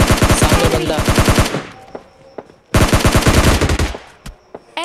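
Rapid bursts of M416 rifle spray fire in PUBG Lite, two long loud automatic volleys separated by a short gap with a few single shots and faint pings trailing after.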